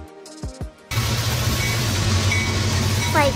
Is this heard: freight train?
yes